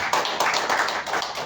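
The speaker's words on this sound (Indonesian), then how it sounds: "Beri tepuk tangan sama Tuhan Yesus." A church congregation at an Easter service in Sukabumi claps together, loud, close and rhythmic, with distinct repeated beats of many hands in quick succession.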